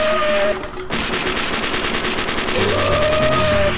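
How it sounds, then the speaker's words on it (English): Heavy machine gun fire rattles in rapid continuous bursts from an arcade video game, loud and dense with electronic game tones and music underneath, no speech over it. "Heavy machine gun."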